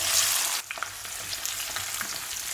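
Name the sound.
spices and onion sizzling in oil, tempering for kurma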